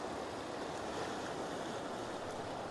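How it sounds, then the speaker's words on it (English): Ocean waves breaking and washing onto a rocky seashore, a steady loud roar of surf with wind noise, no talking. "So here comes a wave now."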